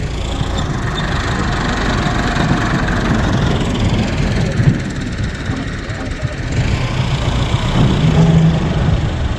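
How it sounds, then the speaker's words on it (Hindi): A tractor's heavy diesel engine idles steadily nearby, a low rumbling drone that swells slightly toward the end, with faint background noise. "ट्रैक्टर ट्रालियाँ लेकर मिट्टी लेने के लिए आ गए हैं"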